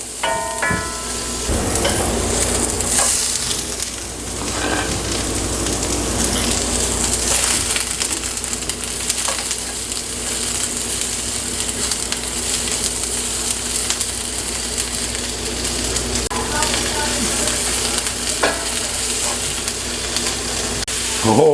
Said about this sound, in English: Let's get these guys sizzled up, cooked down, and then we'll get the meat on the grill